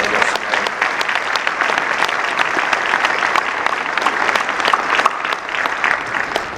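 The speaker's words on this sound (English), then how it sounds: "please join me in a round of applause for the IWLCA" A lacrosse awards audience gives sustained, dense applause for the IWLCA, steady and loud throughout without a break.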